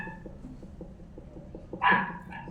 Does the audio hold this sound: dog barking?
yes